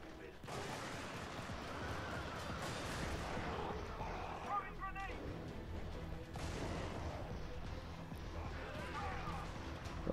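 Weapon fire in the Helldivers game on PS Vita/PS4/PS3, a dense, continuous stretch of gunfire and explosions with a few sharper bursts near the middle, steady and loud with some voice underneath.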